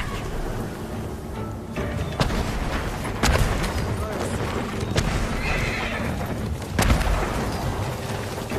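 Horses neigh and gallop in the Ghost of Tsushima video game battle, whinnies and hoof clatter mixed with sharp booms and gunfire-like bangs, moderately loud in a busy game soundtrack.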